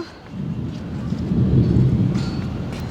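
Thunder rumbles low and heavy during a windy rainstorm outdoors, swelling to a deep roll in the middle over a steady wash of rain and wind.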